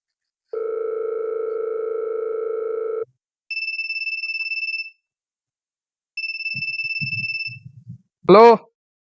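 A phone line gives a long steady tone, then two spaced ringback bursts, faint muffled sounds between them, ending with a short voice answering.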